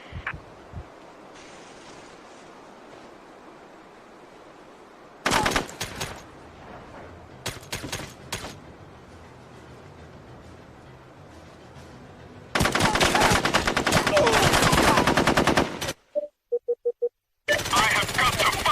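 Machine gun fire in a combat setting: short loud bursts of automatic shots, then a long sustained burst that stops abruptly, followed by another burst at the end.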